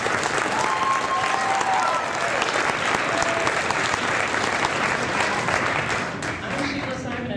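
A crowd at a community rally applauds in a big, sustained ovation, dense and even for several seconds before thinning near the end, with faint voices mixed in.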